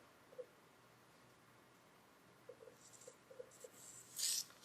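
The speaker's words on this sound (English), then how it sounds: "So I'm going to just, roughly sketch that out." Pencil sketching an anime drawing on paper: faint, sparse scratchy strokes come in short scattered bursts, ending in a slightly louder rustle.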